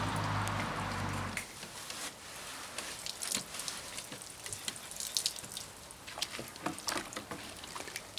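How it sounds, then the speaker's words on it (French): Water runs and splashes as a car's front bumper is rinsed with a cloth during repaint preparation, a brief louder gush at first, then continuous patter and drips close by. "il va rincer complètement son bouclier"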